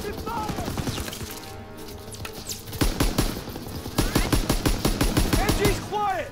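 Sustained machine gun fire in the World War II shooter Call of Duty: WWII, rapid bursts of gunshots building in intensity over a battle din, with soldiers shouting in the mix.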